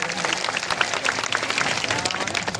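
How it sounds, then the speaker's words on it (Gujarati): An audience at a village speech event in Baivadi, Chhota Udaipur, claps for the speaker Radhika Rathva, sustained and fairly close, with individual claps standing out in a dense wave and faint voices in the mix. "એમને ફરી એકવાર આપણે તાળીનો ગડગડાટ થઈ જાય મિત્રો"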